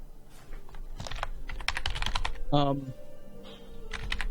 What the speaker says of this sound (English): Just press Control F. Type imperialism.